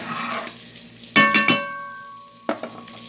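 Pork chops heating in a hot pan while being stirred, giving a low background sizzle broken by a few sharp scraping and clattering bursts near the middle and end.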